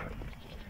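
Sheep and lambs bleating on a highland summer pasture, a brief, fairly faint burst of animal calls over a rough outdoor background with no talk.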